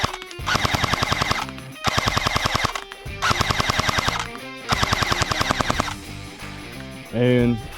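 An AGM Sten submachine gun fires its last magazine in several rapid full-auto bursts separated by short pauses, loud and close, with a brief metallic rattle after the final burst.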